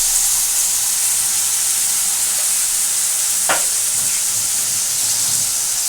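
Ginger garlic paste masala for an egg and potato curry sizzling and frying steadily in a pan, a constant close hiss with a brief sharp scrape of stirring partway through.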